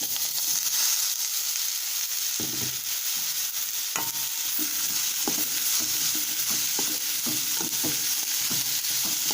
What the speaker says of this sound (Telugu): ఇప్పుడు ఉల్లిపాయలు ఫ్రై అయిపోయినాయి కదా, ఇందులో మనం పొట్లకాయ ముక్కలు వేసుకుందాం